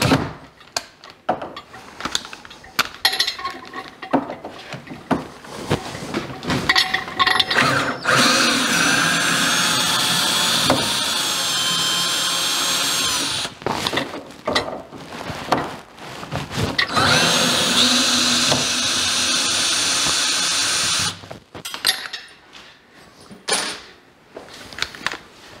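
A battery power drill backs screws out of the cross pieces of a wooden shipping crate, with long whirring bursts of several seconds each that start and stop, broken up by creaks, clunks and handling noise between runs.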